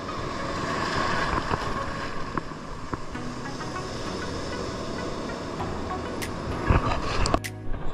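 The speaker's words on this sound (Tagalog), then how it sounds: "Saka hampas ng alon." Sea waves slap against a small boat on open water with steady wind noise, continuous splashing and a few louder knocks near the end.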